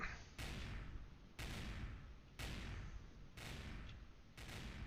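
Heavy gunfire from a video game fires in regular bursts about once a second, each a loud, sharp crack that fades into a long rumbling tail, five in a row with no talking.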